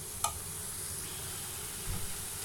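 Chopped tomatoes sauté in a pan for squid masala, giving a soft, steady sizzle and hiss with a faint clink and a stir of the spoon. The sound is fairly quiet and there is no talking.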